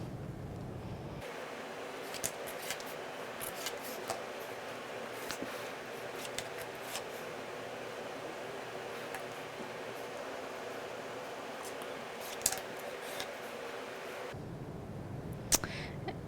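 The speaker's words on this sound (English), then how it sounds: "when you're cutting, it helps to have a sharp blade" A sharp craft blade scoring and cutting through material, steady scraping and rasping strokes up close that run continuously for most of the stretch, with a few sharper clicks near the end and no voices.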